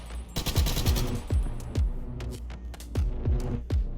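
Gunfire in a Minecraft hardcore plane-crash survival game: a burst of rapid shots followed by a run of sharp, evenly spaced bangs with low thuds, loud and close, with no talking.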